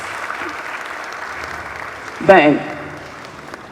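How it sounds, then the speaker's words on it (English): Audience applause at an annual bankers' dinner in the foyer of Accra International Conference Centre, a broad steady wash of clapping throughout with a brief louder burst near the end as a voice speaks over it. "Let's give him another round of applause."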